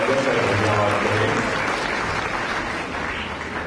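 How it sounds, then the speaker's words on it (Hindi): Applause at an annual college convocation, a dense, steady roar of clapping from a large audience that holds at full strength and eases slightly near the end, with faint voices mixed in. "एक बार जोरदार तालियों से हम उनका स्वागत और धन्यवाद करें"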